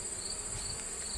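Honeybees around a hive make a steady faint buzzing hum close by, alone with no voices.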